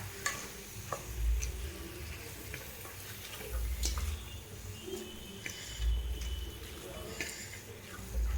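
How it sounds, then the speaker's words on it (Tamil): Chicken pieces coated in ginger garlic paste cook in a pan for a Chettinad chicken curry, with soft sizzling and a few scraping stirs and spoon taps recurring at irregular intervals, close and fairly quiet. "இந்த சிக்கன் வந்து இந்த இஞ்சி பூண்டு பேஸ்ட் கூட ஒரு 5 மினிட்ஸ் குக் ஆகட்டும்."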